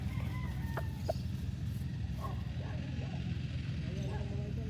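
White Kelso gamefowl at a farm in Santo Tomas, Batangas, clucking and giving short calls through steady outdoor noise, with people talking nearby.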